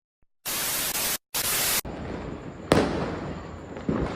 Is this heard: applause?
no